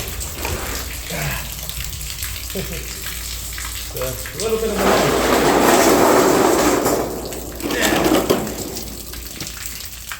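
Water gushes out of rusted plumbing in a loud, rushing burst that swells midway and later surges again, with clanking work noises and someone talking intermittently over it.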